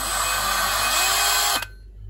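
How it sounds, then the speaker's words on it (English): A high-pitched electric drill spinning an engine valve to lap it into a 4EFE cylinder head whirs steadily at close range, its pitch climbing slightly, then cuts off abruptly, leaving quiet room hum. "So we've put this into an electric drill,"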